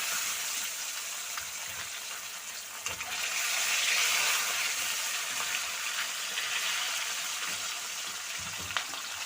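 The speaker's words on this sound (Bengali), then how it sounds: "তো একটু লাল লাল করে ভাজবো" Pieces of salted, turmeric-rubbed pomfret fry in hot oil in a pan, giving a steady close sizzle that swells louder midway and then settles, with a faint scrape or two.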